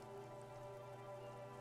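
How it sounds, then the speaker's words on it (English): Rain falls steadily in the video game Disco Elysium, a soft, even patter heard faintly beneath sustained background music. "Rain falls down on the world."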